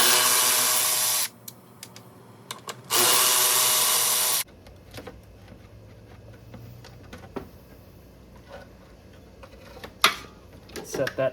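Cordless power tool undoing two 7mm MAP sensor bolts on a 2001-2007 Dodge Caravan 3.3L/3.8L engine, two loud close bursts of whirring followed by quieter clicks and handling noises.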